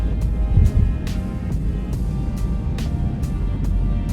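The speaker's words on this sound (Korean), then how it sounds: "박스 엔진의 글름글름 소리 들리시죠?" A steady, low Subaru Outback boxer engine rumble fills the cabin throughout while driving through a residential area, with a soft rhythmic thumping from the road and no talking.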